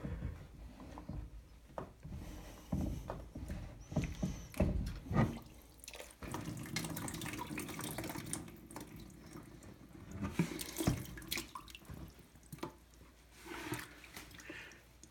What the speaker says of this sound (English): It is full of water, so it will spill.